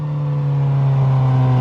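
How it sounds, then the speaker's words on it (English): A Mini with a factory-stock exhaust, in sport mode, gives off a loud, steady engine drone with a strong low hum that builds slightly over a short stretch, heard close with no talking. "this is a stock exhaust"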